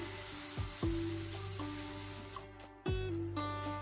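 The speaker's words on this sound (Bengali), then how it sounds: "আর একইভাবে আমি প্রত্যেকটিকেই ভেজে নিচ্ছি" Homemade Bengali breakfast snacks frying in hot oil, a constant close sizzle and hiss broken by a few clinks and scrapes of a utensil against the pan.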